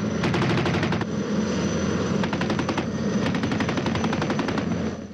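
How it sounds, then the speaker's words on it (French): A 30 mm aircraft cannon of the type used on Mirage and Jaguar jets fires in rapid, loud bursts, with a rattling string of shots, a short pause, then another long burst over a droning engine-like background. "Le canon de 30 mm, arme des avions comme le Mirage et le Jaguar"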